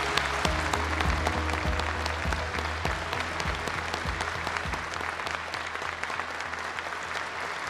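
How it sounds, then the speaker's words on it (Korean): Sustained audience applause at the KF-21 fighter prototype rollout ceremony honoring the development team, dense clapping from a large crowd with a steady low musical hum underneath throughout. "오늘 역사적인 KF-21 시제기 출고를 이끈 20명의 개발진들에게 다시 한번 힘찬 박수를 부탁드립니다"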